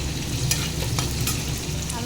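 Onions and green chilies frying until browned in a pan, a close continuous crackling sizzle with brisk stirring clicks and scrapes.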